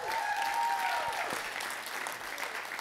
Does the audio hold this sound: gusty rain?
no